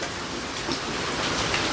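Heavy rain pours steadily during a flood that has soaked a home, a dense, even hiss of falling water that fills the whole stretch with no voices.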